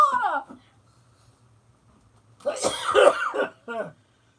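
A brief whining sound fades into quiet, then a harsh burst of coughing and throat clearing follows, close and fairly loud.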